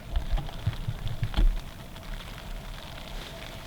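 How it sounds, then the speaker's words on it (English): Rain patters softly and steadily on a tent overhead, a close, diffuse drumming with occasional heavier taps and a low rumble. "with the rain pattering on the tent"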